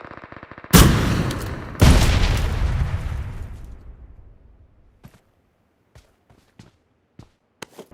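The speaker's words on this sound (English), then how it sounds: "Here is another shot of the Panzerfaust at 150 meters" Panzerfaust rocket launched in PUBG Mobile on the Karakin map, two heavy loud blasts about a second apart with long rumbling decay, followed by faint scattered distant pops.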